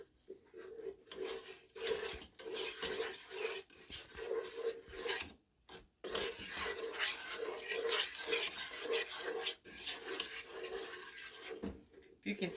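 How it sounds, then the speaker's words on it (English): Cocoa and a melting butter mixture being stirred: close, steady rasping scrapes of a utensil against the pot in a quick repeated rhythm, with one brief pause midway. "And now we're going to stir. Get all of this incorporated."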